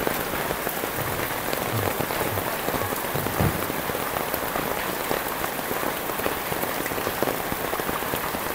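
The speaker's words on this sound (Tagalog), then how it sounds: "Grabe po ang lakas ng ulan mga kababayan," Heavy rain pours steadily onto a surface in the Kalinga area, a dense, even hiss of drops close by with no talk over it.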